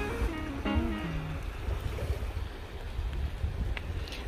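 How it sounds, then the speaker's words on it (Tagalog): Loud ocean waves at night at a campsite on Jeju, a steady broadband wash of surf with wind rumble throughout; a brief tonal voice or hum sounds near the start, with no clear speech. "yung tunog ng tubig, ang lakas na."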